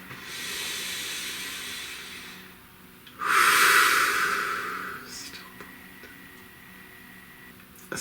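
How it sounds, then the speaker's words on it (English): A slow, deep breath is drawn in through the nose with a soft hiss, then a louder, rushing exhale follows, close and quiet, with no one talking over it. "Please take a nice deep breath"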